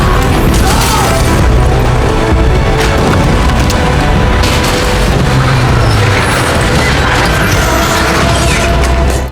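A car smashes into a run of pipes in an action movie scene, a loud, dense wall of crashing, splintering and booming debris that roars on without pause for several seconds.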